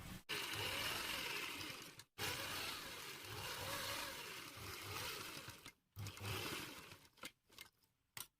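A sewing machine stitches a shirt placket in long steady whirring runs that stop and restart several times, close and fairly loud, with short bursts toward the end.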